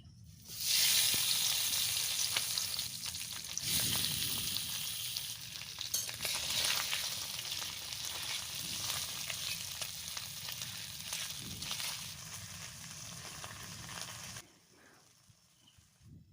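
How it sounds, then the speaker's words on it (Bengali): Tangra fish sizzle loudly in hot oil in a wok, a dense close crackle with occasional stirring clinks that fades to quiet near the end. "এখন কড়াই বসিয়ে তেলটা গরম হয়ে আসলেই মাছগুলো দিয়ে দেব।"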